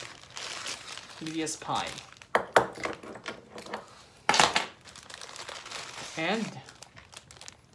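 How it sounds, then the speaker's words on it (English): Plastic packaging around a 1:500 scale Etihad Airways A330-200 model is snipped and crinkled with a nail clipper, giving sharp clicks and crackling rustles up close while someone talks over it. "I think we could use even our nail clipper here to cut, and it goes like this, just easy"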